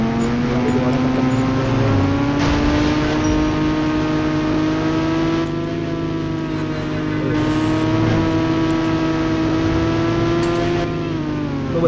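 A Yamaha R15 motorbike drifting in the mobile game Indian Bike Driving 3D gives a loud, continuous engine whine that rises and falls in pitch, heard alone throughout with no talking.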